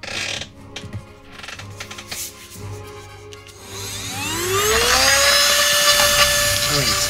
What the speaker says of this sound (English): So we got all the windows drilled.